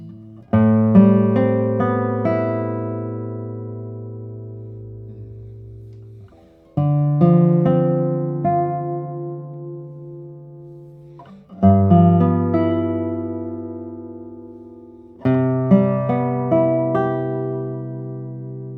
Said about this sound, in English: It's a lattice braced guitar. It's going to sound loud, responsive